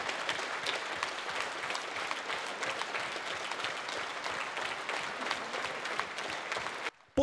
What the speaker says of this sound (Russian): Военнослужащие, курсанты, ветераны стоя аплодируют Владимиру Сайгелю.